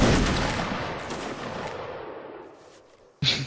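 A Napoleonic Wars game musket line volley erupts at once as a loud, dense crash of many shots, then rolls away in a long fading echo, with a sharp second report near the end.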